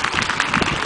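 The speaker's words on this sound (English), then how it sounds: "Both of your stars do appreciate all of that applause" A crowd at a sea lion show applauds, producing a dense, loud wash of many hands clapping together without pause.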